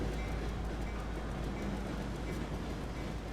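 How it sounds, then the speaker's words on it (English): A train rolls past in American Truck Simulator, a steady, even rumble of rail noise held at constant loudness throughout with no voices over it. "There goes another train."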